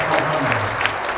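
An audience at a social welfare convention in Jeju gives brief, warm applause, a dense clatter of clapping under a voice that continues speaking.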